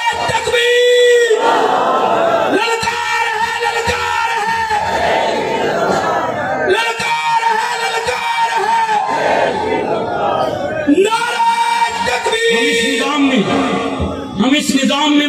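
A large crowd at a religious speech in Pakistan chants the Takbir slogan in response, loud massed voices shouting in repeated rhythmic waves that swell and break off, close and dominant.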